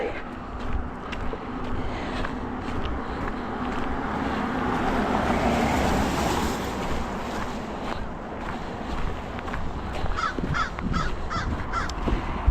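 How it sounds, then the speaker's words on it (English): A crow cawing overhead during a winter walk on icy sidewalks, with repeated harsh calls heard mostly in the second half over a steady wind and ambient roar. "What are you squawking about up there?"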